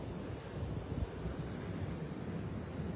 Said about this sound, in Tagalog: Malamig kasi mahangin sa taas.